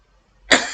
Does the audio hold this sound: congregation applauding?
no